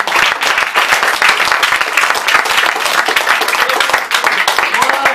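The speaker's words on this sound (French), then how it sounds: "Applaudissez-vous entre vous." Dense, loud applause from a theatre audience at the close of an improv comedy show, sustained and steady throughout with many hands clapping at once.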